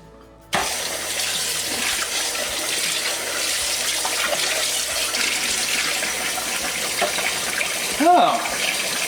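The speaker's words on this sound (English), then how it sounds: "Let's rinse it out and take a look." A 1940s Kinney aluminum saucepan rinsed under a running tap, a steady rushing stream of water that starts abruptly and continues, with a brief splashing clatter near the end, close and moderately loud.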